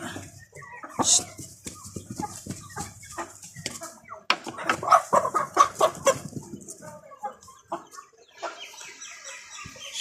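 Colombian Brahma chickens cluck repeatedly at close range, with a rooster's call rising briefly amid the farmyard clucking and scattered bird noises.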